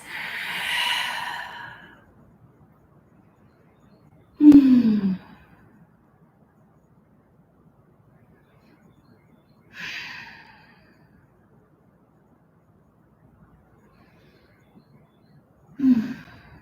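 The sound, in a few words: slow yoga breathing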